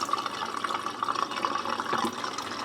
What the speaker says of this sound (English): I have my potatoes and onions that I'm going to drain the water off of